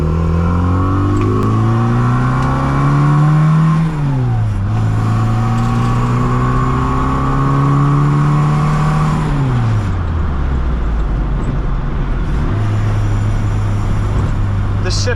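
A 1965 Austin Mini Cooper S engine heard from inside while driving, its steady drone rising, then dropping sharply as the revs fall through a gear change, then climbing and falling again through further shifts, loud and close.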